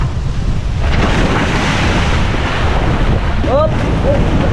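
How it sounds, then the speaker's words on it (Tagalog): Strong sea waves and current wash around a fishing boat off Palawan, a loud continuous roar mixed with heavy wind buffeting, with a few brief voice-like calls near the end. "malakas ang alon at malakas ang agos"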